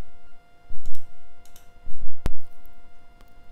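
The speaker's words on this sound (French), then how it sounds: "je peux tout simplement taper 3 au clavier et appuyer sur Entrée" A few sparse key taps on a computer keyboard, typing a single digit and then pressing Enter with one sharper, louder click, close and clear over a faint steady hum, with no talking.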